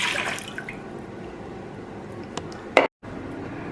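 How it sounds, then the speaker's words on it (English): About 500 grams of water fill a cooking pot in a kitchen, a steady watery splashing rush that fades into drips and a brief clatter before a short cutoff, with no talking. "in a pot, put 500 grams of water to boil"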